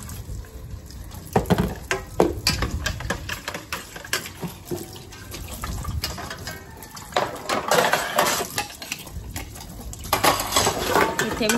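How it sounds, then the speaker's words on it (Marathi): Dishes, pots and pans are scrubbed and rinsed at a kitchen sink, with repeated clatters and clinks of metal utensils over running water, fairly close and busy throughout. "त्यानंतर मग जी आहेत भांडी ती घासते,"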